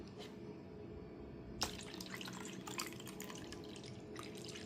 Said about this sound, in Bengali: ওই জন্য এর মধ্যে আমি ঠান্ডা জল দিয়ে দেবো।